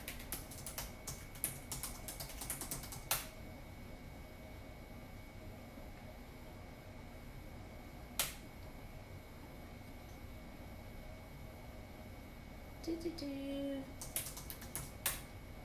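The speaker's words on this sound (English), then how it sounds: "let me see if I can go ahead and type it in here" Scattered keystrokes on a computer keyboard tap quietly in short bursts and single clicks against a faint hiss, with a soft tone near the end and no talking.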